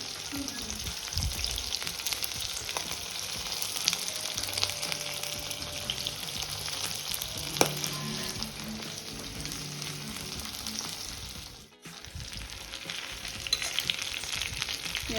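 Pieces of fish shallow-frying in a pan for homemade fish manchurian, a steady dense sizzle with crackling spits that runs unbroken and close throughout, with no voices.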